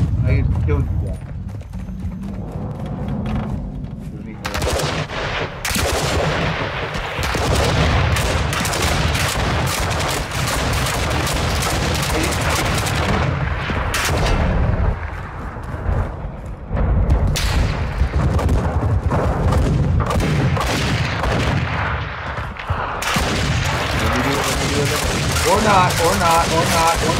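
Gunfire from the video game Warzone 2.0 DMZ crackles in dense, repeated bursts and volleys throughout, loud and busy, mixed under near-constant talking.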